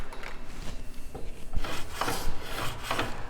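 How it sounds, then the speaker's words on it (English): A metal miter gauge slides along the miter slot of a table saw, giving repeated scraping rubs with light knocks, close up and without speech. "we're going to drop this miter gauge into the miter slot of the table saw"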